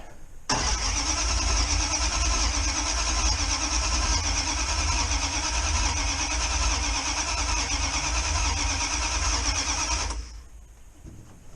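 A Dodge Ramcharger that has sat unused for more than two years is cranked over. The starter and engine churn loudly and steadily for about ten seconds, then stop abruptly, with no talking.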